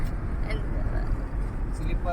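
A sleeper bus rolls past on a road: a close, steady low engine and tyre rumble fills the moment, with faint voices in the background.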